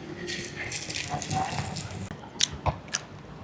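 Crunchy, flaky pastry from a Hong Kong bakehouse being bitten and chewed, with several sharp, close crunches standing out near the end over a murmuring room background.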